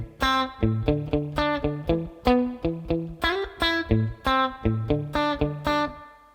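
Distorted electric guitar plays the intro riff of a song: a repeating pattern of punchy, sustained picked notes and chords in an even rhythm, loud and close, with no talking.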